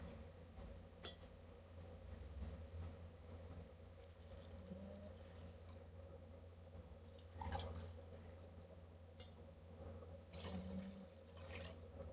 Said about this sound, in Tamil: தேங்காய் பால் ஊற்றுவேன்